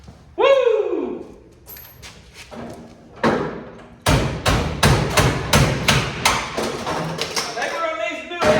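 A hammer pounds on a car's metal body. After a voice whoops and a few separate thuds, a fast, loud series of ringing metallic blows follows close by.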